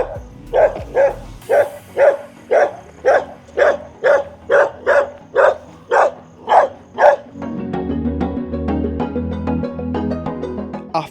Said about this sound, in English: I'm about to go past the angry dogs again